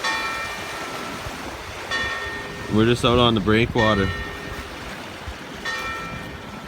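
A cathedral clock bell strikes over the seaside at Sitges, Spain, ringing out twice with long, fading tones. Someone talks briefly between the strikes, and a steady wash of wind and surf runs underneath.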